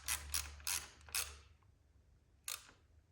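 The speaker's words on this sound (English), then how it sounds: "Now we can tighten that down. Thread that down a little bit." A ratchet snugs down a coil pack bolt in a quick, close series of sharp clicking bursts, four in rapid succession, a pause, then one more, quiet surroundings and no talk.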